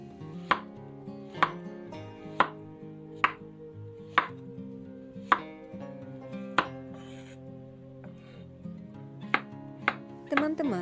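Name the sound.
knife slicing peeled carrots thinly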